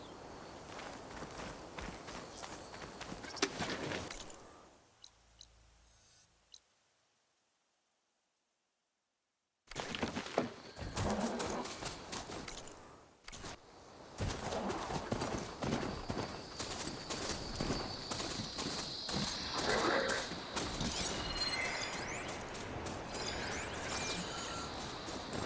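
Heavy rhythmic mechanical footfalls of a ridden machine mount in Horizon Forbidden West, clopping steadily like a trotting horse, broken by a brief silent gap, then resuming at a faster pace with ambient game noise.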